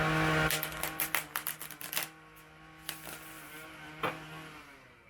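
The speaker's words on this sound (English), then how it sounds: "Just going to shuffle this here." A run of rapid clicking taps as cards are shuffled, then a few sparse clicks over a low steady hum, close and fairly quiet.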